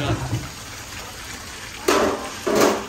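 Water runs in brief bursts to refill a cleaning basin in a ship's galley, two short gushes near the end over a steady noisy background hum.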